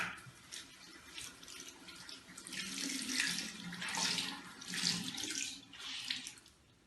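Tap water runs into a sink while a face is rinsed, a steady close splashing with rising and falling surges as hands move through the stream, no talk.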